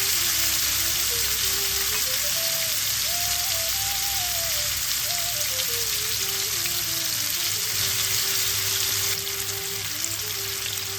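Mashed olives hit hot mustard-oil tempering with a dried red chili, giving a steady, loud, close sizzle and crackle of frying that runs unbroken, with a faint tonal hum beneath and no talking.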